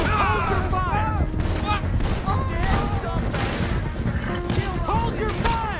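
Gunfire in Red Dead Redemption 2 during a chase, repeated shots crackling close and loud over galloping and a busy game soundscape, with voices shouting over the shooting.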